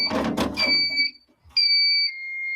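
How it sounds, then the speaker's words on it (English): A building fire alarm sounds in loud electronic tones, one burst after a noisy clash and another after a short pause, steady and piercing. "An alarm has been activated."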